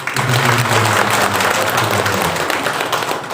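Audience applause at a parenting talk for a kindergarten, a steady dense clapping wash filling the whole stretch at fairly loud level, with a low murmur of voices beneath it.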